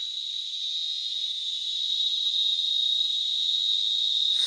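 A small cicada known as cigarrito calling from a garoba tree: one continuous, piercing high buzz, close and strong, swelling slightly louder toward the end, with nothing else audible.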